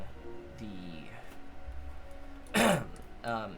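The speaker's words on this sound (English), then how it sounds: "I am coughing a lot." A single harsh cough bursts out partway through, loud and close, set against low background murmur and faint voice-like tones before and after.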